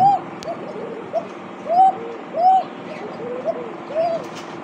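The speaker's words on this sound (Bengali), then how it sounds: "খুবই সুন্দর একটা দেখার মতো কোকা কবুতর ডাক শুনছেন" Coca pigeons cooing at a pigeon market setup, a series of soft, rounded coos repeating every half second or so, fairly close and clear over a low murmur of background noise.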